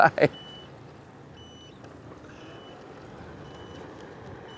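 After two loud thumps, the turn signal of an Ecoroad ET6 electric scooter beeps steadily, one soft electronic tone roughly every second over a quiet hum.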